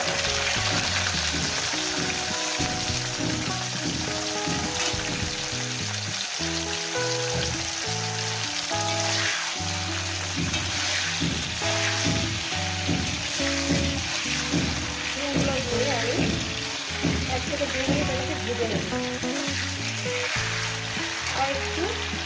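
Flat beans fry in salted oil with a dense, continuous sizzle and crackle, heard under steady background music throughout.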